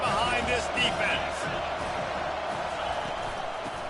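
A stadium crowd at a Penn State football game roars in a steady, loud wash of cheering throughout, with a commentator talking over it.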